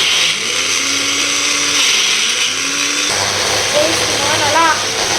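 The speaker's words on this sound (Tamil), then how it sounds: "மாட்டி ஸ்விட்ச் ஆன் பண்ணிவிட்டு நல்லா போட்டு அரைச்சிடலாம்." An electric mixer grinder whirs steadily, grinding chicken gravy masala with a little water, loud and close throughout, with its pitch shifting partway as the load changes.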